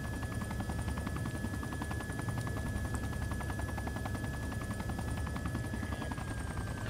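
Helicopter at full throttle in the video game Arma 2, a steady, fairly quiet rotor chop with a continuous engine drone and a thin high whine running throughout.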